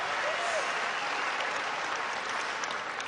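A very large crowd at a political rally applauds in a dense, continuous roar of clapping that stays even and fairly distant throughout.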